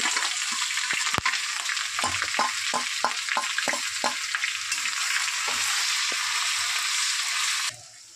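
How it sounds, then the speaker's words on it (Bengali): Ginger garlic paste sizzles loudly in hot oil with whole garam masala, with a steady fry hiss running throughout and repeated short knocks of a spoon stirring the pan, for chilli chicken. "তো গোটা গরম মশলা পর দিচ্ছি বাটা আদা আর রসুন।"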